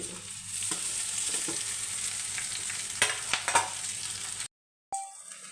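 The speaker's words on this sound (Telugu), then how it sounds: "క్యాప్సికం వేగిన తర్వాత అన్నాన్ని ఇందులో వేసి కలుపుకోండి" Steady sizzling in a pan as rice is stirred into fried capsicum, with scraping and stirring, a few sharper clinks near the end, then a brief cut to silence.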